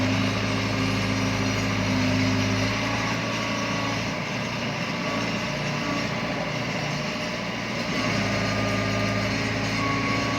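A yellow JCB excavator's engine runs steadily nearby, a continuous diesel drone with a low hum that dips slightly midway and then returns to full strength.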